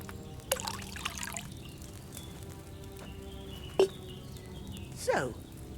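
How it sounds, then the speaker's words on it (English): Wine poured from a pitcher into a cauldron in Kingdom Come: Deliverance II, a faint liquid trickle with a few brief splashes and clinks against a quiet game ambience. "So, what did you pour in there? Wine, of course."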